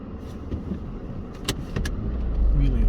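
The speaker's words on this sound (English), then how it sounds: "There's a car there at the junctions" A car is heard near a road junction in Scotland on a quiet morning: a low engine rumble that swells toward the end, with a few sharp clicks and knocks from inside the vehicle.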